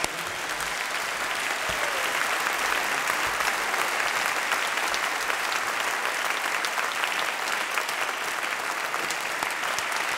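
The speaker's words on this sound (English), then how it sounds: "We have applauded everybody." Steady, dense audience applause at the Skoll World Forum, a large crowd clapping continuously and loudly for the full ten seconds with no pauses.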